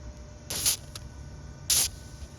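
White lithium grease sprayed onto the pin detent of a Dewalt impact wrench: two short hissing aerosol bursts close up, with a faint tap between them over quiet room noise.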